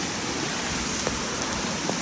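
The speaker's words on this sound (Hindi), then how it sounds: "बारिश रुकने का नाम ही नहीं ले रहा।" Steady, dense rain hisses continuously, a constant wash of falling water with a few faint drips standing out.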